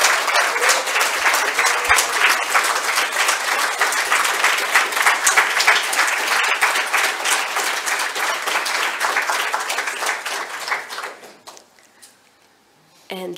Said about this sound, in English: I want a huge round of applause and I want all the volunteers to stand up